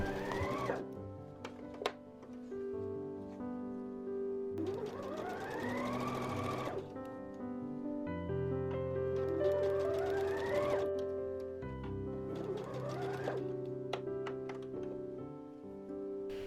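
A sewing machine stitches a fabric bow for a shirt, running close and steady in several long bursts with brief pauses between seams, and no voices.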